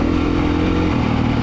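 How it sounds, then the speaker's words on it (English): A Beta 430 RR Race Edition dirt bike engine runs loud and close with a steady, rough mid-range drone at a demo day. "we're on the 430 RR Race Edition, my first bike of the day."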